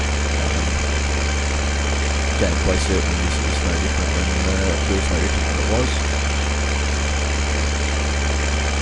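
A tractor engine idles steadily in a farming video game, a constant low droning hum that runs throughout beneath someone talking.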